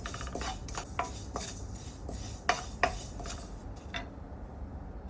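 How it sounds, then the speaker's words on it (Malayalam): White sesame seeds dry-roast in a pan over a medium flame while being stirred, producing quiet, irregular metallic clinks and scrapes of the utensil against the pan, with no voices. "ഇനി നമ്മൾ വെളുത്ത എള്ള് സെസ്മെ സീഡ്സ് 1/4 കപ്പ് ഗോൾഡൻ ബ്രൗൺ ആവുന്നവരെ വറുത്തെടുക്കുക"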